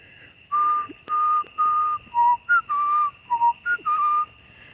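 Someone whistles the Imperial March during an outdoor walk in Florence, a clear string of short and sustained notes in a steady, marching rhythm, close and alone.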